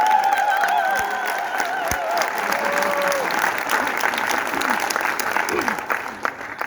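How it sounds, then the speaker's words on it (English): An audience applauds Steve after a talk, a steady, dense round of clapping that holds for several seconds with some voices and cheers mixed in, then thins toward the end. "So one more round of applause for Steve."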